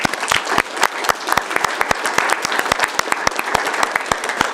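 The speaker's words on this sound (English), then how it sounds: "So round of applause for that." Applause from the audience at a Fountain city council meeting, a steady burst of many hands clapping with distinct sharp claps over a dense wash, close and fairly loud for several seconds.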